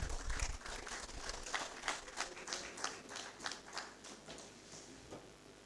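Audience at a REDAN 2023 annual general meeting clapping for a speaker coming up, a dense burst of applause that starts strong and gradually thins and softens.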